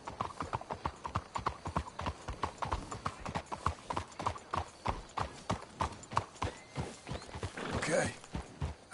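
Horses walk in Red Dead Redemption 2, their hooves clip-clopping in a steady, brisk rhythm at close range, with a whinny near the end and talking underneath.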